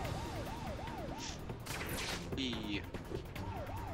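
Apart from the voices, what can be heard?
ambulance siren in Spider-Man Web of Shadows video game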